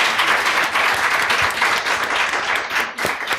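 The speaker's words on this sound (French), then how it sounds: "je vais vous demander de faire un tonnerre d'applaudissements pour Abou Guité" A studio audience breaks into a thunderous round of applause for Abou Guitteye, dense clapping that stays loud and steady throughout with no talking over it.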